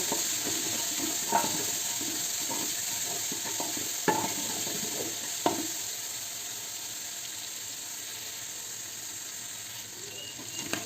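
Whole green chillies are stir-fried with mixed vegetables in a pan, giving a steady bright sizzle with occasional scraping stirs and three sharper utensil knocks, close and constant over a little under eleven seconds, with no talking.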